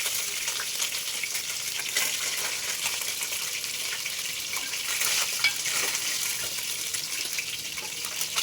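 Fresh pond fish sizzles in hot oil in a pan for a tamarind fish curry, giving a continuous crackling hiss with occasional louder pops and no talk.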